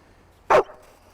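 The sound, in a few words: dog barking on command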